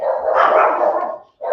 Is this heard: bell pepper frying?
no